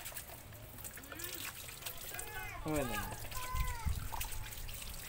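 Tap water runs from an outdoor faucet during a family outing, a soft steady trickle and splatter heard under people chatting and calling out nearby.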